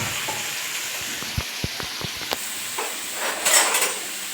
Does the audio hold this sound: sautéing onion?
yes